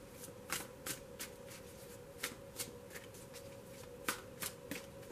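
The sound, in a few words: tarot cards being shuffled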